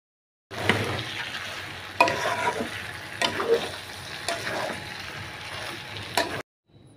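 Beef tripe sizzles and fries in a pan while being stirred, with steady crackling and occasional scraping clicks of the utensil, close and moderately loud, cutting off abruptly near the end.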